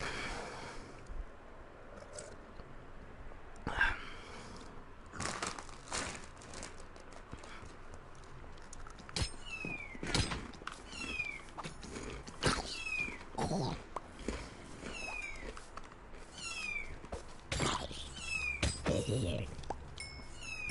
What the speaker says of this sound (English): I'm gonna just play meowing in by different cats